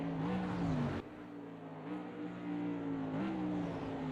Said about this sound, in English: So you can see Woody just starting to pull away a little bit over the top of the mountain here on the McLaren